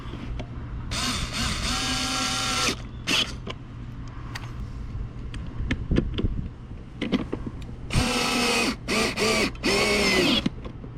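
A cheap electric screwdriver drives fasteners in two main bursts of whirring motor noise with several shorter stop-start runs, separated by clicks and handling sounds, close and fairly loud.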